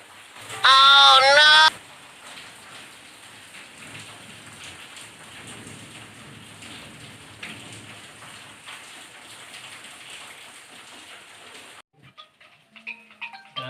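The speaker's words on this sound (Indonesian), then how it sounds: "hujan ada kieu tuh" Steady rain pouring down outdoors, a soft continuous hiss with faint thunder-like rumble, briefly interrupted early by a loud high chirping sound and ending in near silence.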